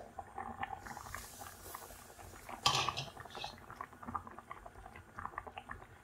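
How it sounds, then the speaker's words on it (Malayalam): A pot of kachil yam curry bubbles steadily, and a metal lid knocks and clatters once as it is lifted, with soft liquid patter continuing close up. "നമുക്ക് കറിയൊന്ന് തുറന്ന് നോക്കാം"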